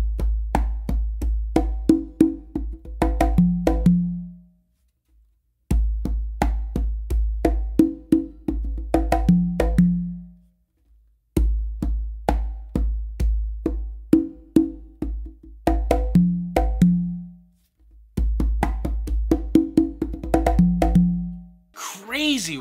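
A syncopated conga and tumba pattern with open slaps and quiet ghost notes, played as four repeating phrases of dense, close, loud hand strikes separated by short pauses, with no talking.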